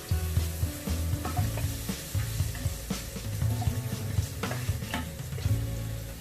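Finely chopped onions stirred in a sizzling pan, a spatula scraping and turning them in repeated strokes over a constant close frying crackle, with no voices.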